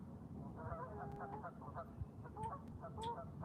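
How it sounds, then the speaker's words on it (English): Geese out on the water honk repeatedly, their calls overlapping at a moderate distance while a low rumble continues beneath them. "The geese are already going crazy here in Ohio."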